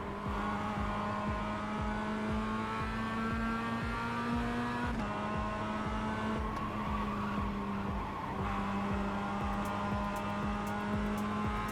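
Mazda race car lapping a track in a racing video game: a steady, loud engine drone holding pitch with small shifts, tire squeal mixed in throughout, no speech.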